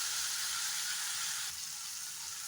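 Onion and tomato frying in a pan make a continuous loud hiss and sizzle, dipping slightly partway through, with no talking over it.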